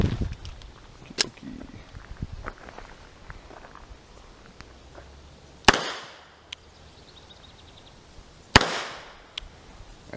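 A WW1-era Colt Model 1917 New Service revolver fires .45 ACP in double action, with two sharp, loud reports several seconds apart, each followed by a short ringing decay, over quiet outdoor background and handling noises.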